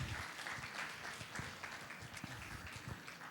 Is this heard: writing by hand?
no